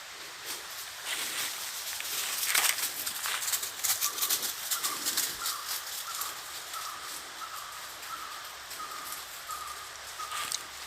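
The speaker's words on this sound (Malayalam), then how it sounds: "കിളികളുടെ കരരാവം കേൾക്കാം" Scattered bird calls and chirps sound at a moderate distance over steady outdoor background noise, with a short repeated call recurring toward the end.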